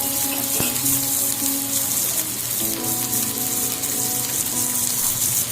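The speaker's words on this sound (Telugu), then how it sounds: "వేగనిద్దాం ఒక నిమిషం" Food sizzling in a hot pan during chutney preparation, a continuous close frying hiss with faint tonal hum and no voices.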